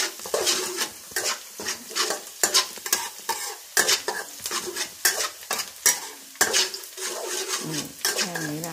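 Garlic stir-fried in a hot pan, with loud close sizzling broken by repeated scraping and clacking of a utensil against the pan in an irregular rhythm.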